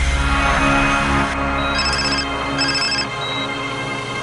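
A mobile phone ringtone chimes loudly and close, a repeating electronic tone pattern with short pauses, heard alone without any talking.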